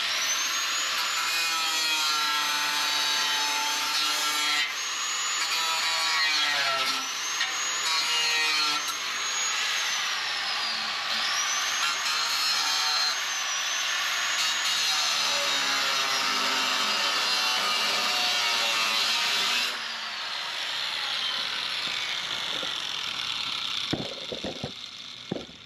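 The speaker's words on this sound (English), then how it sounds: "So let me grind that off real quick." A grinder works the metal of a 1970 Nova trunk pan, a loud, close, continuous high-pitched whine with repeated rising and falling sweeps as it bears down, stopping near the end with a few clanks.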